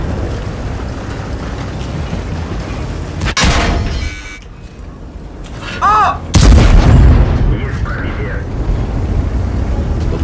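The tank cannon of an Obj 277 fires in World of Tanks. Two loud, booming shots about three seconds apart each leave a rumbling tail over steady engine and ambient game noise.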